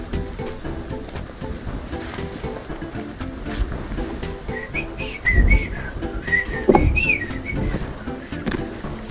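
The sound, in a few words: person whistling during Sons of the Forest video game session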